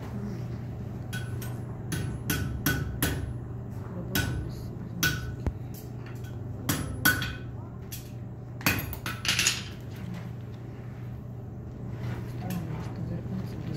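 Irregular sharp metallic scraping and clanks from gouging into thin-gauge steel, with a steady low machine hum underneath throughout.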